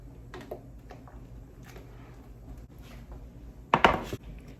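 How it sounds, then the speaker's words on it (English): Potatoes are added to a baking sheet, first as a few soft knocks and taps, then a louder clattering tumble of pieces landing on the metal near the end. "I'm gonna go ahead and add my potatoes to my baking sheet"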